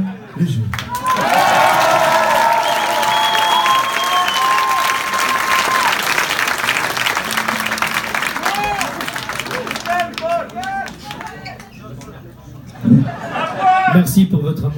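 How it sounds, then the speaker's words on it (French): A concert crowd at a French rock band's show applauds and cheers for a man, a loud, dense wash of clapping and shouts that gradually thins, with voices and a few laughs coming through near the end. "je vous demande d'applaudir Monsieur Paul Léger"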